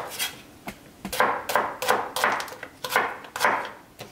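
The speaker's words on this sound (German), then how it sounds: "Die Zwiebel auch lange Streifen schneiden, bitte." A kitchen knife slices onions and peppers into long strips on a wooden cutting board. The close, crisp strokes come in a steady rhythm, about two per second, with no talking.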